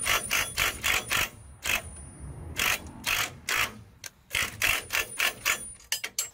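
A ratchet tightening bolts on a freshly painted custom steel bumper of a Nissan Patrol 4x4, rapid loud bursts of clicking repeated many times, close up.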